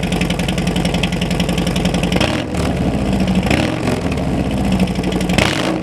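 Harley-Davidson Sport Glide motorcycle engine fitted with a Tab Performance muffler, rumbling loud and close with a steady idle and brief revs, no voices.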